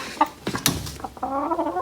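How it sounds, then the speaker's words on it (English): A chicken perched on a workshop table clucks close by in a short, uneven series of calls that ends in a longer drawn-out cluck. No one speaks. "Thanks, chicken."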